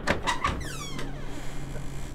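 A door opening in the video game Candles: a short run of knocks and a sweeping, squeaky slide, then a low hum that lingers briefly.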